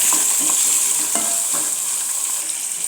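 Onion, curry leaves, mustard seeds and cumin fry in hot oil for a hotel-style black-eyed pea palya, giving a loud, steady close sizzle broken by a few soft stirring scrapes.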